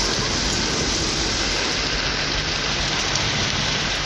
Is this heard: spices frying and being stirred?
no